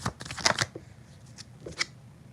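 Tarot cards shuffled by hand, a quick riffling flutter of crisp card edges in two short bursts, close and clear with no talking.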